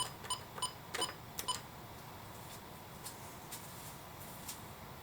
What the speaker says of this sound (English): And we'll enter in our code.